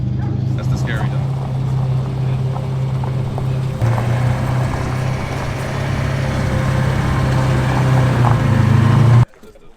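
A carbureted Datsun 240Z engine drones steadily while driving, a low hum that shifts pitch partway through as the car changes pace. People talk over it, and the sound cuts off abruptly at the end.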